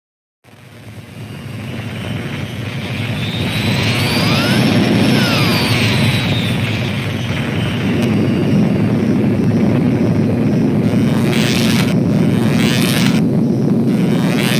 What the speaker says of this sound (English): Just then, the shuttle is sucked into the anti-anomaly.